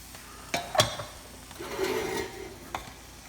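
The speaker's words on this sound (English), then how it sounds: "Add the rice into your oil and your onion, in this case butter." Rice parching in butter and onion for saffron pilaf, starting with a couple of sharp utensil knocks against the pot and then a brief rising sizzle with stirring, close up and without talk.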